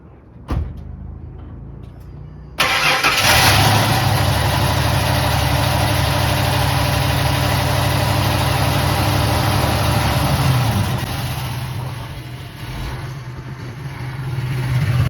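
A 1997-2003 Ford F-150 V6 pickup with a Gibson dual exhaust idles steadily with a deep, rumbling exhaust tone after a brief knock and a moment of quiet, holding a constant low throb throughout.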